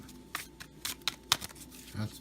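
Playing cards shuffled during a tabletop game session, giving several short papery riffle bursts spaced irregularly, close and fairly soft, with a brief low murmur of voices near the end.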